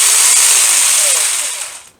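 A Dedra mini chainsaw with no chain brake, its chain still whirring after release and spinning down on its own, a close high-pitched buzz that fades out over a couple of seconds.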